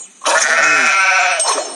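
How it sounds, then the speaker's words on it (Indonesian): Sheep in The Wolf game bleat loudly and up close, one long wavering call that fills nearly the whole moment after a brief quiet start. "Ada satu domba lagi."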